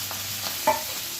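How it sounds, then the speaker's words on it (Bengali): Shredded cabbage, just added to a pan for a veg momo filling, gives a brief soft sizzle and a single stirring scrape, quiet and close. "তারপর এর মধ্যে আমি বাঁধাকপিটা দিয়ে দিলাম"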